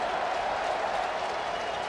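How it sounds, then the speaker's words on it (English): A baseball stadium crowd cheering and applauding as fans rise to their feet, a dense, steady roar of many voices and clapping that fills the whole stretch evenly. "Crowd on its feet."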